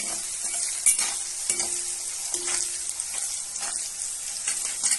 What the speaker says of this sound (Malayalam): അതിനുശേഷം നമ്മൾ നന്നായിട്ട് ഇളക്കി ചേർക്കണം